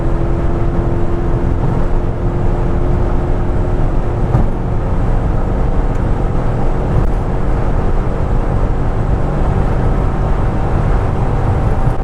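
Chrysler 300C 6.1 SRT8 driving at high speed, heard from inside the cabin as a loud, constant roar of engine, road and wind noise that holds steady throughout.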